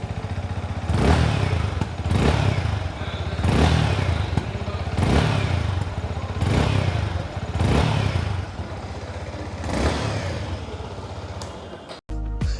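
A Yamaha MT15 motorcycle engine runs close by, revved in repeated bursts about every one and a half seconds, each swelling and falling back, before a sharp click near the end.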